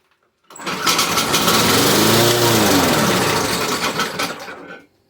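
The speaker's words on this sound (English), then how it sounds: "I pull the pull starter and you'll see how it starts." A primed Briggs & Stratton lawn mower engine catches on the pull start, runs loudly and steadily for about four seconds close by, then sputters and dies.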